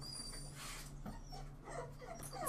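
Dogs whine and whimper at home in high, thin cries, with a few short yips, over a steady low hum, close and moderately loud, with no talk.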